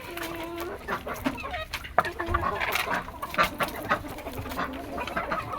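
Bearded hens cluck and murmur close by in a farmyard, with scattered rustling and background noise throughout.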